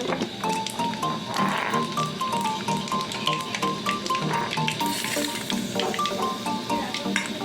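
Nigella seeds and dried red chilies tempering in hot oil in a kadai, a steady busy crackle and sizzle running throughout, close and fairly loud, with scattered pops over a constant fry.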